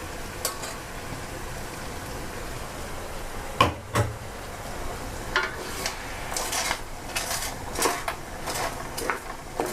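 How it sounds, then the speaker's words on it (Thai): Aromatics for braised pork ribs with dark soy sauce stir-fried in a pan, a steady frying hiss broken by scattered scrapes and clinks of the spatula against the metal, close and moderately loud with no talking. "ผัดให้เครื่องมันหอมก่อนนะเพื่อนๆนะ"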